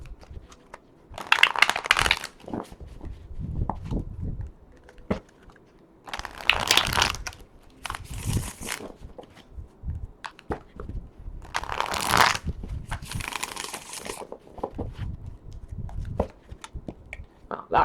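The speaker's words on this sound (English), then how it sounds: "I'm just going to go ahead and shuffle these guys up pretty good" Bursts of large, stiff cards being shuffled, several crisp riffling passes separated by brief pauses and soft handling noises, close and alone.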